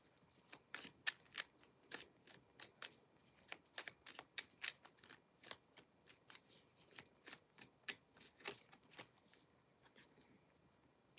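Cards being shuffled: a long run of quick, crisp riffling clicks in bursts, close and fairly quiet, with no talking.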